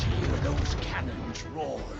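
Ship cannon fire in the naval video game Rogue Waters, dense booming blasts and rumbling over a constant noisy battle backdrop, loud and close for the whole moment.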